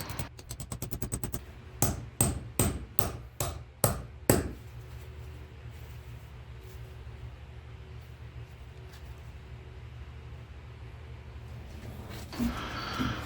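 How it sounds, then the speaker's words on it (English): A fast burst of light taps, then about six heavy, evenly spaced hammer blows driving a metal sleeve into a Jeep sway bar bushing, followed by quiet room noise and a faint clatter. "you just whack it in with the hammer"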